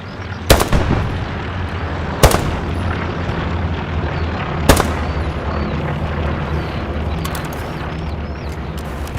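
Gunfire in the World War II shooter Hell Let Loose: three loud, sharp shots spaced a couple of seconds apart over a constant rumbling battlefield din, with no talk.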